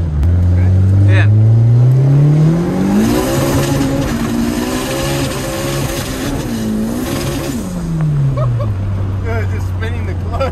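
A turbocharged B18 non-VTEC Honda engine revving hard during acceleration pulls, its loud droning note climbing through gears, then falling back to a steady cruise, heard close from inside the car with voices talking over it.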